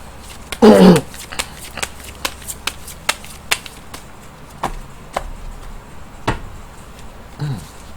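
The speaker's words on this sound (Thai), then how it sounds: "เดี๋ยวจะมาเสี่ยงไพ่ยิปซีดูให้เพิ่มเติม" A tarot deck is shuffled and handled for a daily horoscope reading, producing a soft riffle early on, then a steady series of light, evenly spaced card taps and flicks up close.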